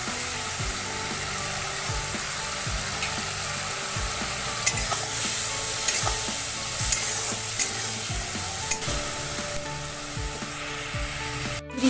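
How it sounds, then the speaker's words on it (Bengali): Spices and chopped tomatoes frying in a pan for a rohu fish curry with aubergine and potato, steady sizzling with repeated scraping stirs of a spatula throughout. "তো আমি এবার মশলাটা ভালো করে কষিয়ে নেব।"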